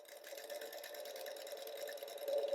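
A sewing machine runs steadily as it stitches pinned quilt blocks along a quarter-inch seam guide, a continuous close whirring hum with no pauses and no talk.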